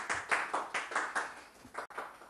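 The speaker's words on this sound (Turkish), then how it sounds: "Evet, alkışlarınızla." Studio audience on a Turkish TV talk show claps to welcome a guest onto the stage, a sparse run of distinct, rhythmic hand claps close by, fading out with a brief gap near the end.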